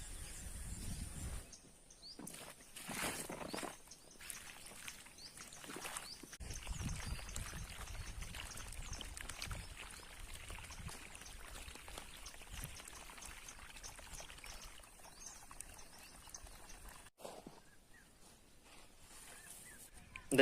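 Water pours steadily from the pipe of a farm motor pump at a brick-making site, a continuous splashing rush that runs the full length without a break, mixed with faint outdoor background sounds.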